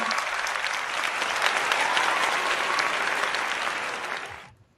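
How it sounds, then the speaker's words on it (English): An audience at a college award ceremony claps steadily for several seconds, a dense, even patter of applause that fades out abruptly at the end. "Let's give a big round of applause for all students present here"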